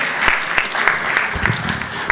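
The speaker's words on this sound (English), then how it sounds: "Can I have a big round of applause for Dikshit Jain?" An audience at a formal event gives a round of applause, a dense, steady wash of many hands clapping with a few sharper individual claps standing out.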